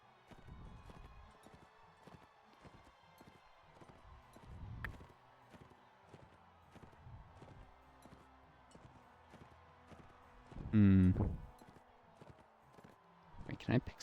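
Horse hooves clip-clop in the video game Mount and Blade Warband, a steady run of quiet, evenly spaced knocks, with a louder burst of clatter and movement near the end.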